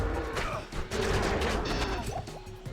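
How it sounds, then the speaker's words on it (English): Explosions burst in Project Diablo 2, a dense cluster of crashing blasts and impacts layered over game effects and music, loud and continuous for the whole stretch. "So the explosions actually did me in."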